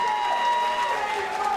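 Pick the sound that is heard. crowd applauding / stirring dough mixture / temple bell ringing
crowd applauding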